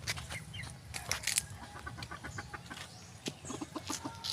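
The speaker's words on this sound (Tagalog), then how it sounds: "Ito mga birds oh, ang una nating pakakainin." Pet birds call close by in quick, uneven chirps and clucks just before feeding, with bursts of activity across a few seconds and no talking.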